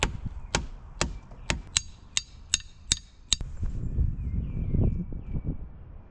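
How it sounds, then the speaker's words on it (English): A hammer strikes wooden foundation forms at an old cabin, about eight sharp, evenly spaced knocks, then rustling and handling noise. "Hammers don't really seem to be the right tool for this job."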